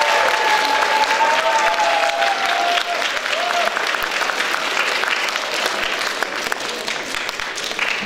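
A concert audience gives sustained warm applause welcoming a composer, dense clapping throughout with a faint voice and a brief tone audible early on.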